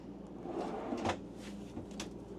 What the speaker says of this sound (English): Some pull-out drawers for additional storage.